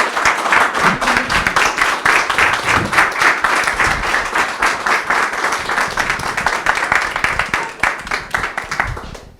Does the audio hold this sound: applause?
yes